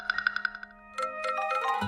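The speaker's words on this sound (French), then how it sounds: "Téléphone." A phone ringtone plays a quick run of bright electronic chime notes, then shifts into a sustained melodic tone, fairly faint with no talk over it.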